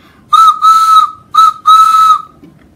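A loud whistle blows four times in a short-long, short-long pattern, clear and steady in pitch, with nothing else around it.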